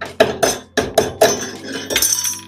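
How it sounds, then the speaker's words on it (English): Five or six sharp metallic hammer strikes ring out in quick, uneven succession, close and loud, as parts are pounded off during assembly of a Sovda Precision Fill Mini, followed by a clattering scrape. "we will grab a hammer"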